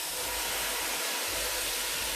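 Drained refried beans tipped into a hot pan with onion and garlic give a steady, loud broad hiss and sizzle that holds evenly throughout, with no voices.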